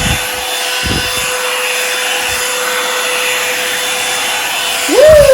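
A Revlon One Step blow dryer running on high heat gives a loud, steady whooshing roar with a constant whine, while short thumps come from handling. A rising squeal sounds near the end.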